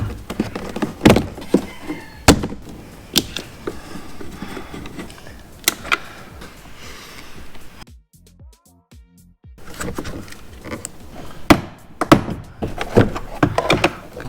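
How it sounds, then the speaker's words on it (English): Plastic door trim panel is pried and pulled off a 2016 Skoda Octavia vRS door, giving sharp clip pops, knocks and thunks scattered irregularly over a steady low rustle of handling, with a short quiet gap midway. "So let's take this door trim off and get this fixed up."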